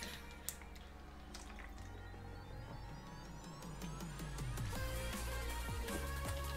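Drinking water poured into a container with a rising gurgling fill, faint and close, getting a bit fuller toward the end.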